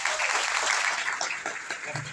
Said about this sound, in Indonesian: Tepuk tangannya kedengaran sampai Medan, saudara.